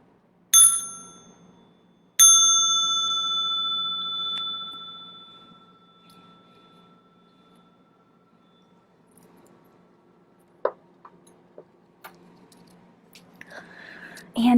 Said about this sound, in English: Small bell again for stretching and massage.